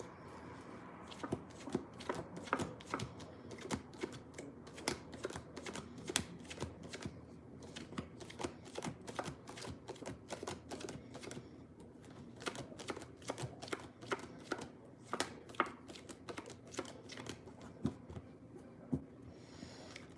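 Tarot cards being shuffled, a continuous flurry of crisp riffling and slapping card sounds lasting about twenty seconds, close up and fairly quiet with no speech.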